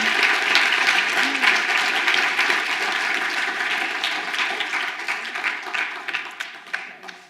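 Audience applause at the close of a lecture on Black feminist freedom dreams, a dense crowd of clapping that holds steady, then thins and tapers toward the end with a few scattered last claps.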